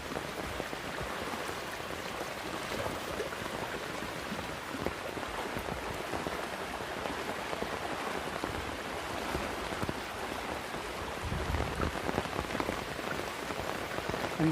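Steady rain with wind falls in Kabaraka village, Dwarka, a broad unbroken hiss of drops on surfaces, close and even throughout, with no voices.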